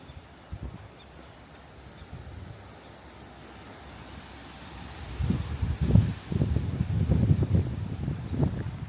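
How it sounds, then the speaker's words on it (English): Strong wind on the road between Kalbarri and Northampton, Western Australia, buffets the microphone in heavy gusts, quieter at first and then rumbling loudly in bursts, with a constant roar underneath. "So extremely windy."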